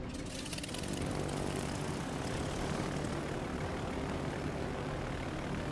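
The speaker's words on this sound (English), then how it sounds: "Load the torpedo bombers." Torpedo bomber planes from an aircraft carrier fly in World of Warships Legends, a loud continuous propeller-engine drone that rises quickly at the start and then holds steady, with no talk.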